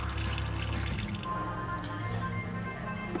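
Coolant drains from a BMW F650GS motorcycle in a steady, continuous trickle and splash of liquid, close and fairly constant, with a slightly louder gush at the start before settling into a running pour.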